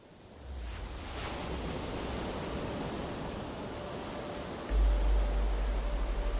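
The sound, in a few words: ocean waves breaking on the shore with wind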